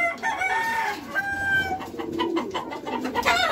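Racing pigeon arriving at the loft at the end of a derby race from Calbayog, Samar, amid a busy chorus of bird calls with rooster crowing and clucking layered close by, continuous across the short span.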